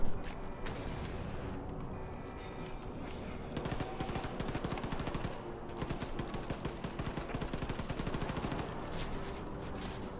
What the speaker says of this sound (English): You shot him in the head.